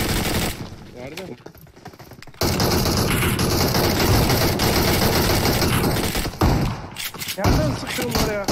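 Gunfire in PUBG Mobile: bursts of rapid automatic shots and single cracks, some close and loud, others further off, with game ambience between volleys and a long sustained stretch of firing in the middle.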